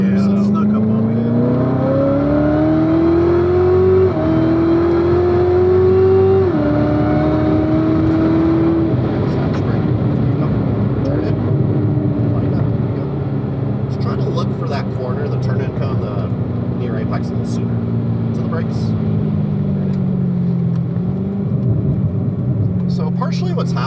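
A car engine runs steadily while driving through a tight track corner, its pitch rising in stepped gear changes, then easing and dropping under braking. A person talks over the engine throughout.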